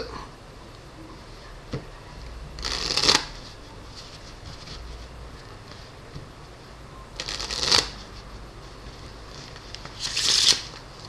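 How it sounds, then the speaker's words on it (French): A deck of 52 red-backed playing cards being shuffled, three separate quick riffling bursts spaced a few seconds apart, close and crisp, with soft handling rustles in between and no talk. "On va mélanger les cartes."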